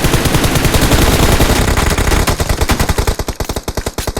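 Rapid automatic gunfire in the mobile battle royale BGMI during a competitive match: a dense, continuous loud burst that breaks into distinct, evenly spaced shots toward the end, with no voices.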